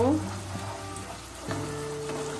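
Spices, including Kashmiri chili powder and a bay leaf, fry in a pan for a vegetarian potato curry. A close, continuous sizzle is broken by a couple of short stirring scrapes, with no talking.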